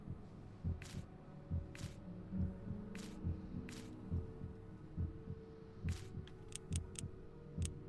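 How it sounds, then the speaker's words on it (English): A heartbeat sound effect from the PS4 horror game Song of Horror thumps in a slow, steady low throb under a humming ambient bed, with occasional sharp ticks and clicks above it. "Why is my heart beating during this?"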